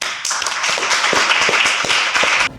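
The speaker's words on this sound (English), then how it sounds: "All right, next founder up, round of applause." A live pitch-event audience applauds the next founder, a dense burst of claps lasting a couple of seconds that cuts off sharply at the end.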